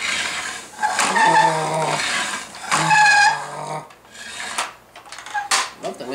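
A Bruder toy mowing attachment gives repeated high squeaks and scraping plastic creaks in uneven bursts, close and fairly loud, with a voice speaking between them.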